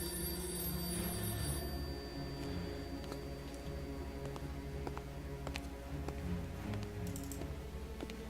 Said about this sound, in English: the phone in the back is ringing.